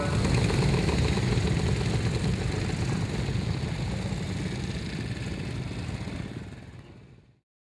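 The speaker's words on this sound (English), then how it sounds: "As the bikers continue their ride" Vintage motorcycles circling the arena at a steam engine and vintage vehicle rally, a continuous rumbling engine drone that stays loud before gradually fading away toward the end, with no one talking.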